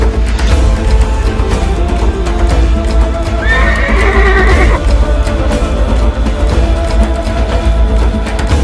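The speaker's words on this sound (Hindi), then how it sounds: "घोड़ा चलता है अपने हिसाब से" A horse neighs once in a rising, ringing whinny midway through, over a steady loud rumble of outdoor noise, with no talk, during a horse riding session.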